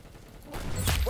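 Gunfire in a first-person shooter game cuts in abruptly halfway through, a loud burst of shots with a sharp crack near the end, after a quieter stretch.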